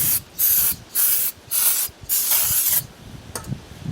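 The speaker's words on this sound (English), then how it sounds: "we'll spray some more brake clean on there." Aerosol brake cleaner sprayed onto the brake shoes and drum of an MGB, five or six loud bursts of hissing spray about a second long each, separated by short pauses, with faint mechanical clicks toward the end.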